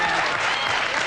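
A talk show studio audience breaks into loud, dense applause, a short burst of many hands clapping at once.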